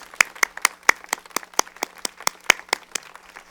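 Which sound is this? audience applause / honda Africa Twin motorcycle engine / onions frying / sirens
audience applause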